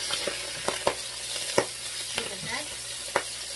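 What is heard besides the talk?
pork belly frying and being stirred in a pan without oil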